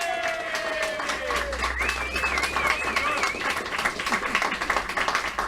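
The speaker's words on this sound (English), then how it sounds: "So first of all, a round of applause for Bill Hartston." A crowd claps steadily in a busy room at a Mind Sports Olympiad victory ceremony, with voices and a passing whistle-like tone over the applause.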